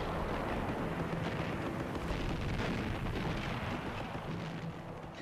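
Dense, continuous rumbling barrage of artillery gunfire during the fighting in the Falaise Pocket, loud and roaring throughout with overlapping booms, fading slightly at the end.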